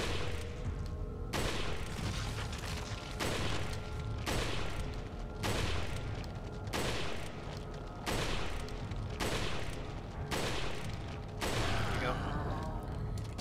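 Gunfire in the video game Resident Evil 4 aimed at a regenerator enemy, about ten loud evenly spaced shots, each followed by a mechanical reload clack, under faint background game sound.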